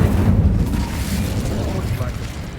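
Incendio fire spell cast in Hogwarts Legacy, a heavy booming whoosh of flame that rumbles and slowly fades over a couple of seconds, with a voice present.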